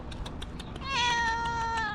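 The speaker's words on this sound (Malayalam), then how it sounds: "ഇവിടെ ഒരു പൂച്ചക്കുട്ടി നല്ല ഭംഗിയില്ല കാണാൻ" A kitten in Saudi Arabia gives one clear, rising meow that is drawn out and close, heard over faint background noise.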